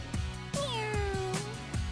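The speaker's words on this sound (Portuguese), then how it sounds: "a minha gatinha, Eta" A pet kitten in a Barbie cartoon gives a single drawn-out, falling meow, close and clear, over a soft background of music and effects.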